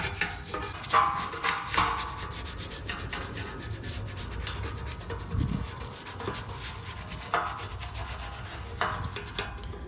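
Steady abrasive scrubbing on the rusty mast of a DirecTV Phase 1 satellite dish, a continuous rough rubbing with occasional scrapes and knocks, close and moderately quiet with no voices.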